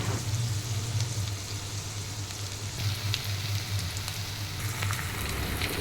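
Cut onions, green chillies and curry leaves fry in hot oil for taro root curry, a steady close sizzle with soft crackles running throughout, no voices.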